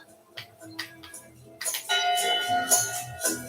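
A ship's bell in Return to Monkey Island rings out loud and bright in the second half, sustained metallic tones after a few soft knocks and faint ticks.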